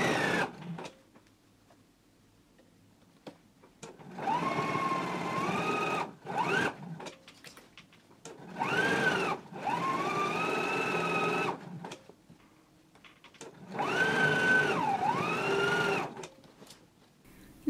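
A sewing machine stitches a waistband seam at a 5/8 inch allowance, running in three sustained bursts of steady whirring with quiet pauses between, close and clear with no talking.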